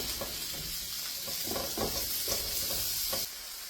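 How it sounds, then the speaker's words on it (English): Mushrooms and onions sauté in a skillet with a steady, bright sizzle and soft rhythmic stirring strokes, loud and close, which ends with the hiss dropping slightly near the finish. "I'm going to saute them for about 3 minutes."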